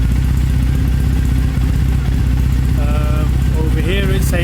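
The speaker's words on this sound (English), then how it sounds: "Over here it says let it idle, let the fan kick in." An air-cooled motorcycle engine idles steadily and loudly throughout, a continuous low rumble with no revving, and some brief higher tones appear near the end.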